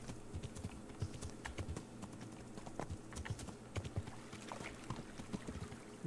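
Hooves drum in quick, regular clip-clop beats as a horse gallops in the medieval game Kingdom Come: Deliverance, steady and fairly close against a low background.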